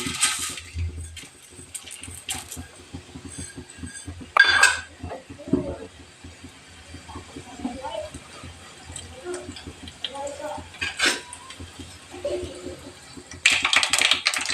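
Cumin and mustard seeds crackling in hot oil while upma is cooked, faint irregular popping and spitting under a person talking, with a few brief louder sizzles.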